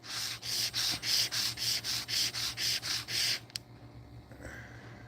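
Sandpaper rubbing on a small machined part in about a dozen even back-and-forth strokes, close and crisp, then stopping with a faint clink and a quiet background hum.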